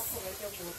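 Fish sizzling in a hot pan for Trinidad-style stew fish gives a steady, close hiss and crackle that runs the whole time, with a voice speaking over it.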